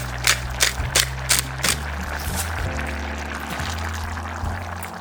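Broth is poured into a pan of cooking risotto, giving a soft liquid splash and trickle over a low steady hum, with a few sharp clinks early on.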